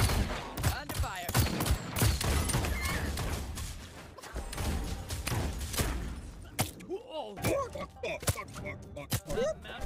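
Gunfire in the battle royale game Realm Royale during a duo squad match: dense, rapid volleys of sharp close shots and crashes, thinning into scattered cracks with whooshing effects, mixed with a voice in the background.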